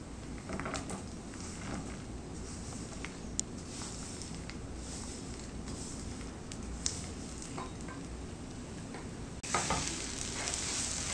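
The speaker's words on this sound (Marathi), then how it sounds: "आणि हे छान मिक्स करून घ्यायचं आहे। ह्यातला गूळ विरघळला पाहिजे।" Grated coconut filling cooking with chopped jaggery in a pan, a soft, fairly quiet sizzle with occasional spoon scrapes and taps while it is stirred, without speech.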